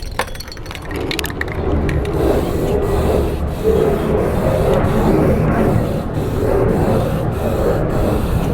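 Rust-Oleum spray paint hisses from an aerosol can onto a RoadRunner SE, a loud, continuous close-up spray broken by a few brief pauses, with no one speaking.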